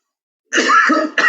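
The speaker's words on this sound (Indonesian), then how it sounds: "Aduh, tiba-tiba ini batuk" A sudden cough close to the microphone, two quick harsh bursts after silence.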